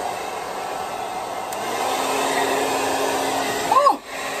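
A hair dryer blows steadily on hair at close range, a continuous loud whoosh that holds for several seconds before surging briefly and cutting out near the end.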